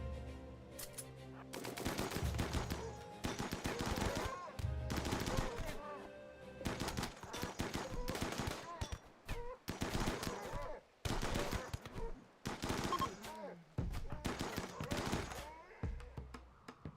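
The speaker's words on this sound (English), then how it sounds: "LMG and SMG ripping apart." Sub-machine gun and light machine gun fire in the colony game RimWorld, rapid automatic bursts repeating in loud clusters with short gaps between them, sustained throughout.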